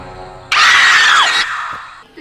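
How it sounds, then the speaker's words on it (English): A screeching pigeon in a swamp lets out one loud, piercing shriek lasting about a second, its pitch sliding downward before cutting off abruptly. "Screeching pigeon."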